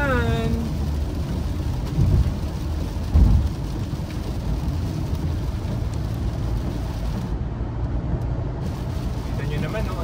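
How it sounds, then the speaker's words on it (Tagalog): Heavy rain falling steadily with low rumbles of thunder, including a couple of deeper booms early on, heard close around a person who speaks briefly. "Ang ulan."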